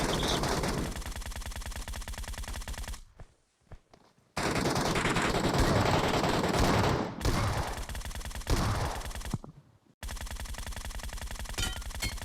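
Loud, close automatic gunfire in PUBG Metro Royale, with rapid rattling bursts broken by a few brief pauses, and no voices over the shooting.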